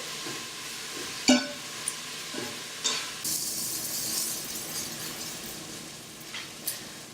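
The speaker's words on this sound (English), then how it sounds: "We're going to give this a quick stir, just to make sure that the onions get distributed" Onions cooking in an Instant Pot are stirred, a low steady sizzle with occasional clinks and scrapes of the utensil against the pot, close and fairly quiet.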